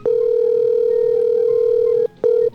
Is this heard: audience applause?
no